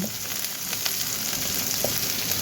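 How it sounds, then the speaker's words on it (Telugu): Onions frying in a pan for an aloo, meal maker and coconut masala curry: a steady, close sizzle with faint crackles and soft stirring, alone without voices. "ఇవన్నీ కూడా దారగా వేగాలండి చూస్తున్నారు కదా ఉల్లిపాయలు బాగా వేగాయండి"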